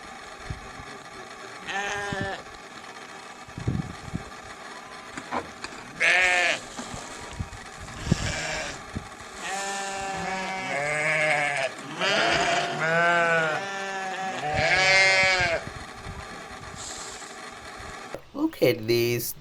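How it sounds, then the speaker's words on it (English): Sheep bleating repeatedly at close range, several drawn-out wavering calls in a row, fairly loud, mixed with a person talking between them. "This is a very nice and beautiful sheep here."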